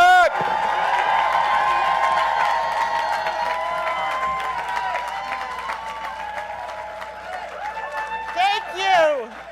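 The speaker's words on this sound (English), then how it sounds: "Let's give a Boston round of applause for Congresswoman Katherine Clark." Rally crowd at a federal housing policy event in Boston applauds and cheers for Congresswoman Katherine Clark, a dense, steady wash of clapping mixed with voices and whoops that swells again near the end.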